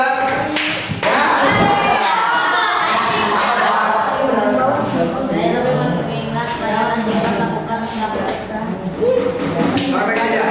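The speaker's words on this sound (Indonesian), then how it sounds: "Tepuk tangan buat Karisa." Classmates in a school classroom give a student a round of applause. The clapping is loud and dense, with thuds and crowd noise running through the whole stretch and voices mixed in.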